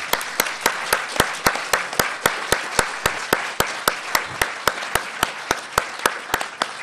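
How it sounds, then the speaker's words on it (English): Audience at a Navy SEALs panel during a Tucson book festival applauding military veterans, heard as a slow, regular series of sharp, loud, close handclaps, roughly three per second, ringing clearly through a quiet room. "And let's give them a round of applause."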